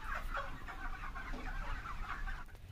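Chickens cluck steadily on a poultry farm of about a thousand birds while being fed, a faint, constant murmur of many overlapping clucks with no one speaking.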